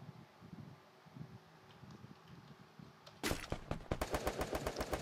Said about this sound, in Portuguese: os caras estão tá trocando tiro aqui ainda,